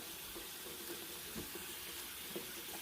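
Tap water runs steadily into a sink while hands are washed under it, a constant close splashing hiss with a few soft knocks and drips.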